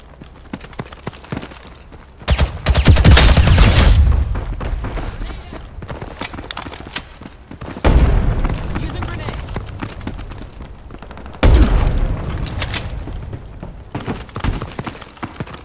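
Enemy arm launcher fire and explosions in a Ghost in the Shell game, with three heavy booming blasts at intervals, each followed by a rumbling tail and dense clatter, and speech in between.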